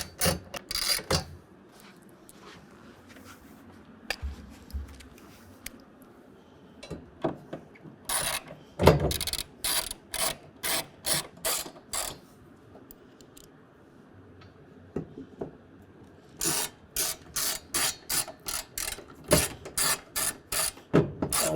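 A hand ratchet clicks in quick rhythmic bursts while tightening the clamp bolts of a Revolver X4TS tonneau cover on a 2022 Toyota Tundra, with pauses between runs and a long final series of sharp clicks.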